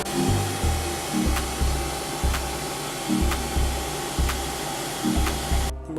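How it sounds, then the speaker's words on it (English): A hooded hair dryer hums steadily and loudly over conditioned locs, with a constant broadband whoosh and a low pulsing rhythm underneath throughout. "So I'm gonna let my hair sit under this dryer for about 20 minutes"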